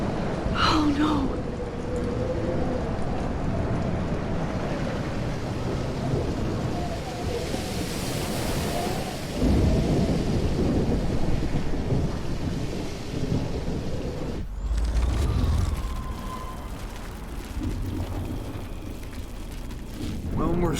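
A thunderstorm in the video game Life is Strange, with steady rain and rumbling thunder filling the whole stretch and a heavy low crash partway through, while a voice speaks over it.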